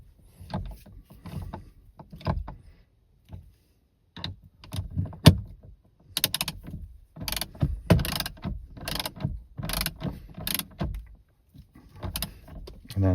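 Ratchet clicking while tightening a 12-point triple square bolt on a Porsche Panamera 971 steering wheel, heard as bursts of sharp mechanical ticks and clunks, close and fairly loud, with short pauses between runs.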